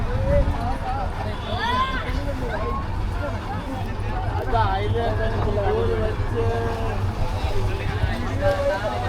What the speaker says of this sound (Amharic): ፋይናሊ ወተናል ጀልባ ላይ እየሄድን ነው